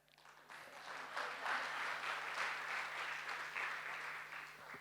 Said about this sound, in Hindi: बधाई दीजिए ताली